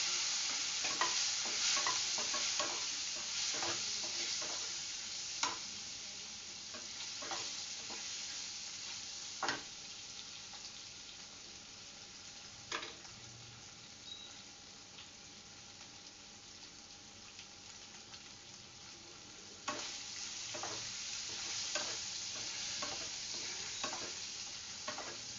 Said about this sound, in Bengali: আমি পনিরটাকে ভেজে নিব,